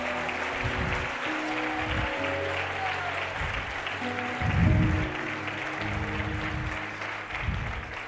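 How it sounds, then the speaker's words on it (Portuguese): A church congregation claps loudly in worship, sustained applause over a low hum of organ or keyboard chords, with low thuds and a brief swell midway. "aplauda Jesus mais forte"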